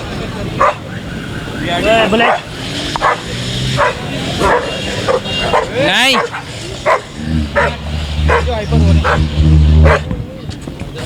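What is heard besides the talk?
dogs barking and fighting at market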